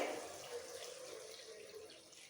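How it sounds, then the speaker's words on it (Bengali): A little water is poured into mustard masala cooking in a pan, making a brief, soft, continuous rushing pour with a faint hiss. "এবার জল দিয়ে দেবো অল্প করে"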